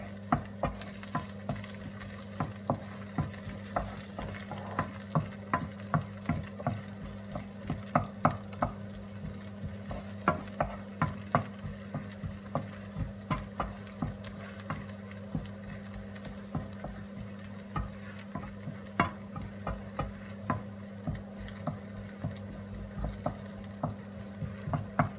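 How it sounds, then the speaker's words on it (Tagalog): Garlic sizzles in hot oil in a pan for a chicken garbanzos dish, a steady low frying hiss broken by regular scraping stirs of a utensil, close and without talk. "Let's wait lang po mag golden brown po yung bawang natin."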